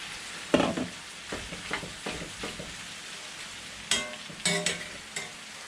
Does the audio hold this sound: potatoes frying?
yes